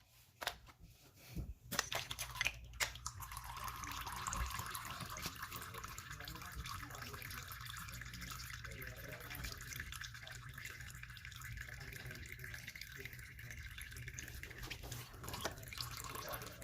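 Engine oil drains steadily from a Suzuki DR650 in a continuous trickling, splashing pour that holds the same level throughout, after a few brief knocks at the start.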